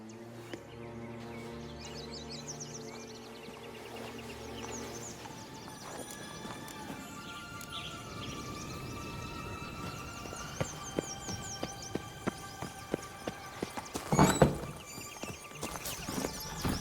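A horse in The Witcher 3 clip-clops at a steady walk over soft game music, with a neigh near the end and the hoofbeats growing clearer over time.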